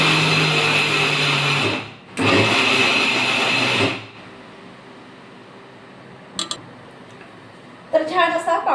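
Electric mixer grinder whirring loudly as it grinds roasted mixed seeds into a coarse powder, running in two bursts separated by a brief pause, then quiet with a few clinks and a short rattle at the end.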